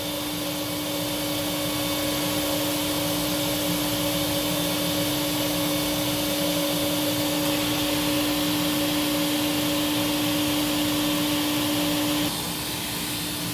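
A Silver King 73B2 runs steadily through a hose during an airflow test, giving a loud, constant motor whine with a strong tonal hum that shifts slightly near the end.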